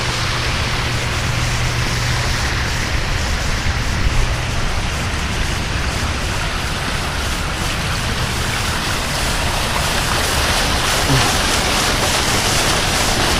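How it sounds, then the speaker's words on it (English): Park water fountains send out a constant, broad rush of splashing water that stays loud and even throughout, with no talk. "More fountains."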